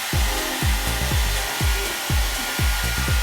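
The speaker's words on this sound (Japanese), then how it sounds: "タオルドライして髪がまっすぐになるよう意識しながらドライヤーで乾かします" A hair dryer blows continuously to dry freshly towel-dried short hair before a home haircut, a loud, steady whooshing hiss with soft, regular low thumps as it moves around the head.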